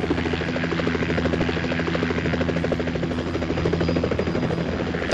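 A helicopter in the video game Condemned: Criminal Origins drones with a steady, fast rotor throb at constant loudness for the whole stretch, with no speech over it.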